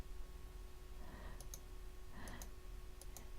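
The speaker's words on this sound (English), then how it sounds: "I'm just going to click it twice" A computer mouse clicks in Electric Quilt design software, two quick pairs of small, close clicks over a quiet room hum with no talking.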